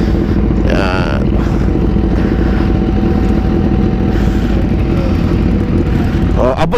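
A BMW S1000RR 1000cc sport motorcycle rated at 205 horsepower runs with a loud, close, steady engine drone that sounds wind-buffeted and swells briefly at the end, and a voice is heard briefly early on.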